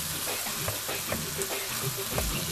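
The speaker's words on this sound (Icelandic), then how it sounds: "Þetta steikjum við þar til að 3 til 5 mínútur þar til að kjúklingurinn orðinn" Chicken pieces sizzle and fry steadily in a hot pan, a dense continuous crackle with occasional stirring scrapes, close and fairly loud.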